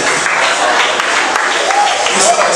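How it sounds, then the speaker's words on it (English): Clapping from an audience at a university pageant for a male contestant, loud and close, with shouting voices and talk mixed over the applause. "Clap for him."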